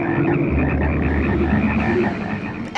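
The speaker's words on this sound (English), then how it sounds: "But guess what? Frogs decide to crash the party." A chorus of frogs croaks densely and continuously from the horror film Frogs, with overlapping ribbed calls filling the scene at close range and no speech.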